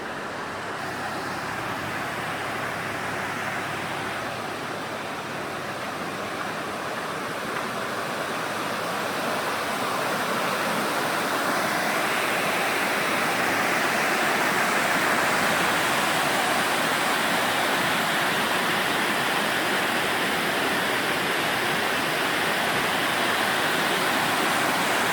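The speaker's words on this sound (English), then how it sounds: "It's a waterfall, like a really crazy cool cascading waterfall." Steady, dense rush of a cascading waterfall in the Grand Canyon of the Yellowstone, nonstop, a broad roar that swells slightly louder partway through and holds with no voices.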